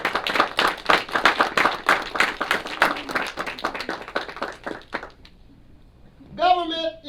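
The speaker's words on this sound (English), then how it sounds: "Let's give our police department a round of applause for their efforts." Clapping from a city address audience honoring the police department, a dense burst of applause for about five seconds that fades out, followed by a voice speaking.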